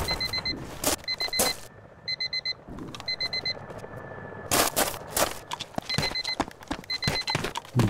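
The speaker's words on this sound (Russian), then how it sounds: "Будильник." An electronic alarm clock beeps in repeated bursts of rapid pips inside the video game ArmA 2 ACE, mixed with loud gunshots and bursts of gunfire.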